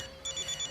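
A mobile phone rings with an incoming call from mother, a short, faint electronic ringtone with pulsing tones that starts partway in and repeats quickly.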